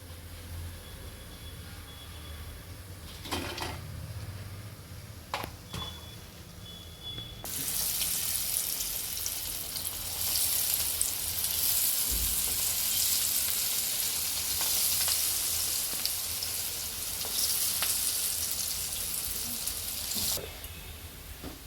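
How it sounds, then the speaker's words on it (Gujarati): Loud, steady sizzling of split chickpea lentil fritters deep frying in hot oil starts abruptly after a quieter stretch with water running, then continues evenly. "જેવી રીતે આપણે બધા વડા તળી લઈએ"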